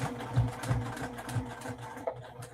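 A sewing machine runs in short quick bursts while tacking down fabric for a zippy bag project, a fairly faint rapid mechanical stitching hum heard close up without talk.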